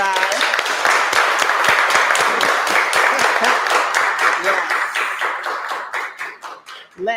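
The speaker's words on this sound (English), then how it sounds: "Another round of applause." Audience applause at a panel during a Black Wall Street legacy festival, a steady dense run of claps that thins toward the end, with voices faintly underneath.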